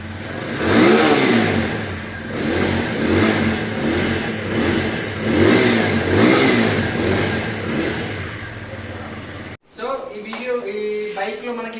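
A TVS Apache RTR 200 motorcycle with about 1000 km on it fires up and revs, its engine throbbing loud and steady for several seconds before cutting off abruptly, followed by a short bit of talk.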